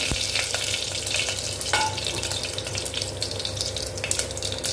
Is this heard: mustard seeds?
yes